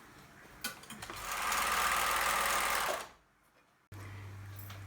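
A sewing machine runs a steady burst of stitching on fabric with black cotton thread, buzzing loud and close for about two seconds before slowing to a stop, followed by a low hum.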